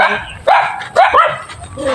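A blue-eyed dog barks a few sharp times close by at a backyard piggery, with yelping tones, while people talk around it.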